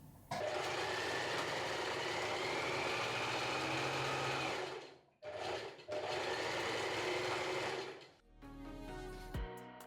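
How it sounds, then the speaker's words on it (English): A sewing machine backstitching the seam of an Aria tank or dress runs in a loud, close whirring burst, stops briefly, runs again, then falls quiet before a short rattle at the end. "We're going to backstitch at the beginning and end of the seam."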